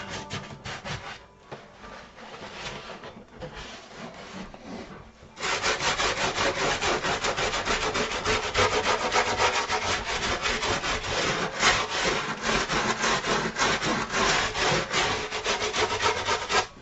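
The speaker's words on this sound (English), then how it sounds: "Scrubber pads, the sandpaper of styrofoam." A scrubber pad sands a piece of styrofoam, a close, loud, continuous rasping rub that starts lighter and intermittent, then becomes steady and vigorous, with no talk.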